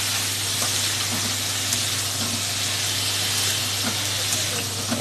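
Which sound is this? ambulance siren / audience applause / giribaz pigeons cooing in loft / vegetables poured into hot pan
vegetables poured into hot pan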